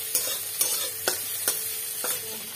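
Sliced onions fry in oil with a steady sizzle, punctuated by four or five sharp spatula taps and scrapes against the pan, close and unaccompanied by talk.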